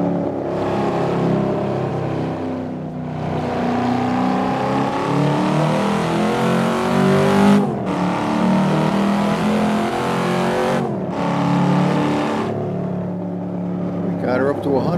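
A 2002 Chevrolet SS Camaro V8 pulls hard to about 100 mph, its engine note climbing through gears with short shift breaks, loud and close from inside the car, with a voice speaking over it.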